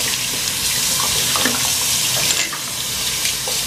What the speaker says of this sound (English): So I am just going to turn my water on.